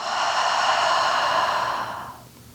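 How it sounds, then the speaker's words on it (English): A long open-mouthed exhale released after holding a deep breath during yoga, a close, breathy whoosh lasting about two seconds before trailing off into quiet. "Pause at the top of the in-breath and hold it. And then open the mouth for the exhale and let it go."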